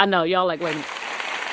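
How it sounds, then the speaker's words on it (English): A small audience breaks into brief, scattered applause right after a woman finishes a short spoken line, the clapping steady and moderately close until the end. "I got a little applause here."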